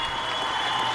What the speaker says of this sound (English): let's give her some applause